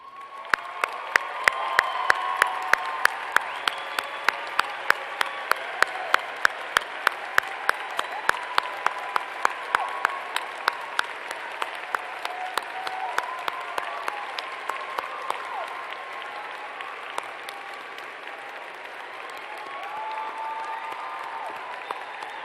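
A large crowd at a Winthrop University undergraduate commencement applauds steadily, with a few sharp claps standing out near the front and scattered cheers and whoops in the background. The clapping keeps a steady rhythm, then thins toward the end.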